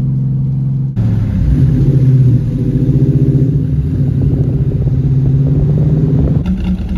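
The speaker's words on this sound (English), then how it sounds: "this fine specimen is a 1970 Plymouth Cuda AAR" A 1970 Plymouth 'Cuda AAR with a 340 V8 and four-speed starts up after a moment of quiet, then settles into a loud, deep, lumpy idle that rumbles steadily until it cuts off near the end.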